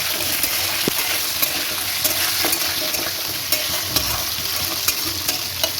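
Potato and radish frying in a pan give a steady, loud, close sizzle with small crackles and occasional light scrapes of stirring, no voices over it.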